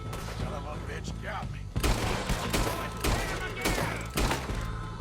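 Gunfire in Red Dead Redemption 2, a loud burst of shots with sharp repeated cracks and thuds over a dense battle din, with the shots clustering in the second half.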